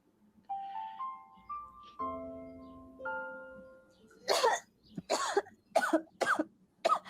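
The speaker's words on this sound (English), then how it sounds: "Oh, she's coughing." A woman coughs about five times in quick, harsh bursts, close and loud, after a soft melodic chime with a low hum beneath.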